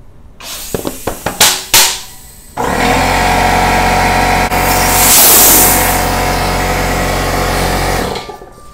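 Air hose nozzle blows a loud, steady rush of air into a Vittoria Corsa tubeless bicycle tire for several seconds, preceded by quick clicks and handling knocks and ending abruptly.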